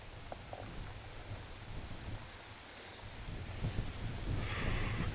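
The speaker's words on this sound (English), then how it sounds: "It's very windy." Steady wind blowing into a windscreened microphone in a graveyard at dusk, a low rumbling buffet that grows stronger toward the end, with faint rustling and no voices.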